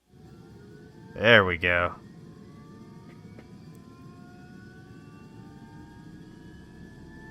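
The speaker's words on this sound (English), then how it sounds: "So I think we just flip the little red switch here on the ceiling, and I think we're ready to go. And our engine should start momentarily." Turbine engine of an Airbus H125 helicopter spooling up in MSFS 2020, a thin whine slowly rising in pitch over a steady low hum, with a brief spoken remark near the start.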